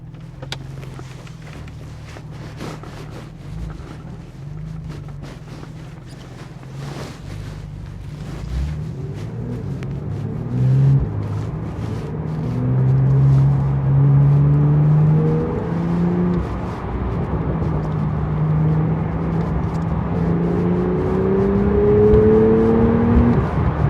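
A 2018 Porsche 911 Carrera T (991.2) pulls away and accelerates through the gears. Its engine note climbs in repeated rising sweeps over steady road noise, loud and close throughout.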